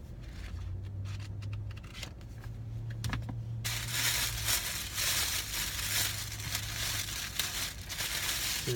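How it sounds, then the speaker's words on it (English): Paper being crumpled and crinkled, a steady crackling rustle that grows louder and denser halfway through, close up with no talking. "Is it pretty crinkly paper?"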